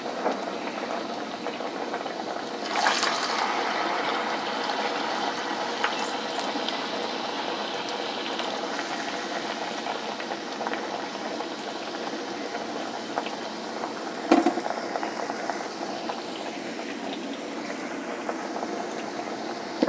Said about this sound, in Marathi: अशा प्रकारे आपण बाकीचे सगळे घारगे तळून घेऊया